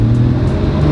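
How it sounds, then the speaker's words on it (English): A Porsche GTS Street Cup race car drives at speed on a freeway, its engine a loud, steady mid-pitched drone with road roar, heard from inside and close, without talk. "Let's drive this thing on the freeway for the first time."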